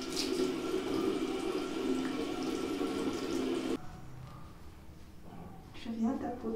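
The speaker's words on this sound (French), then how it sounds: "Maintenant, je vais rincer avec de l'eau tiède." Warm water runs steadily from a tap for a few seconds as a face is rinsed, then cuts off, leaving soft splashing and dripping.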